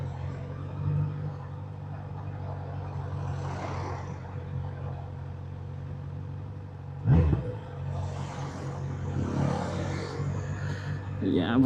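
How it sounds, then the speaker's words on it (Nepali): A loud motorcycle on narrow Tokyo streets idles with a low, steady engine throb, then revs in a sharp burst partway through and rumbles on. "सो घुम्दै फिर्दै गल्लीमा त यस्तो लाउड आउँछ नि यो बाइकको साउन्ड"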